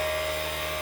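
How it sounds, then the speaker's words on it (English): A steady, high-pitched mechanical whine from a power sander runs without pause through a brief moment, sanding during an RV water leak repair. "And then I'm sanding this down."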